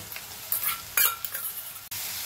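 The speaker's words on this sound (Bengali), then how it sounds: "ভাজতে ভাজতে এরকম হয়ে গেছে পেঁয়াজ, আদা, রসুন, কাঁচা লঙ্কাটা" A paste of onion, ginger, garlic and green chilli fries in a pan, sizzling steadily while a spatula scrapes and stirs it in several short bursts.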